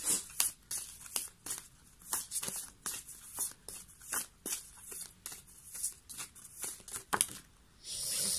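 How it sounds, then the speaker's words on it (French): Tarot cards being laid out one by one on a table during a reading, a series of crisp papery slaps and slides at an irregular pace, close and fairly quiet with no talking. "Je vais mettre 3 autres petites cartes, s'il vous plaît."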